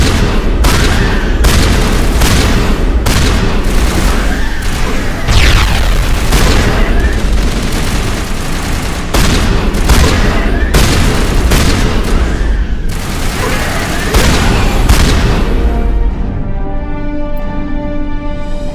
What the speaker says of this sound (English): Look at that shotgun blast